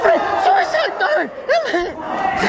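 Wrestling crowd cheering and shouting after Billy O'Keefe's suicide dive at a UKW show, a loud, steady roar of many voices with rising whoops and yells throughout.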